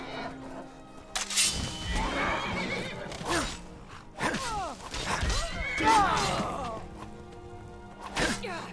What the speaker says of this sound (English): come here, horse. Where are you going?